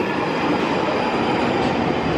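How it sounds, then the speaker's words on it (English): A London Underground Northern Line train rumbles steadily at loud volume, a dense continuous roar of wheels and motors with no voices over it. "This is the Northern Line train terminating at Kennington."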